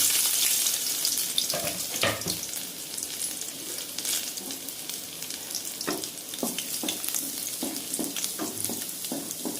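Continuous sizzling and crackling of garlic frying in a pan for Kerala chickpea curry, with occasional clinks and stirring sounds, no voices.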